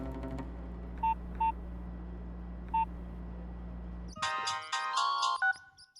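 A few short, clear beeps of a telephone number being dialed in a quiet indoor Telugu movie scene, followed by a louder melodic ringback or ringtone playing alone.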